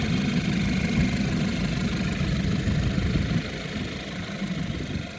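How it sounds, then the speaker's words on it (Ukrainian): A 2013 Audi A4 B8 engine idles steadily with a low, even rumble and slight vibration, continuous throughout and fairly close. "Мотор працює рівненько."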